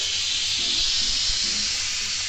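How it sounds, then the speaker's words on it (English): An Instant Pot electric pressure cooker vents steam on quick release after cooking lasagna soup, a loud, steady, close hiss that runs unbroken throughout. "We're going to release the steam,"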